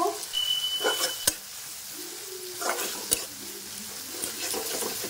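Ginger-garlic paste sizzling in a pan while a utensil stirs it, with steady frying hiss and a few sharp scraping clicks against the pan, close and fairly quiet, no talk.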